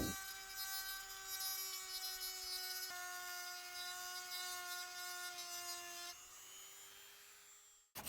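A Dremel rotary tool cuts through a bike stem with a steady, high-pitched whine that holds for several seconds, dips briefly in pitch, then winds down at the end.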